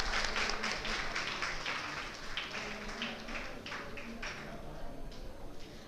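A crowd applauds steadily throughout after a performance at an International Day of Yoga event, many hands clapping at moderate distance with a fairly even, sustained texture.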